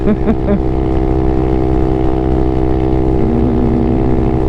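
Honda Grom small motorcycle riding on a motorway, a loud steady engine drone with wind rush, continuous and close throughout.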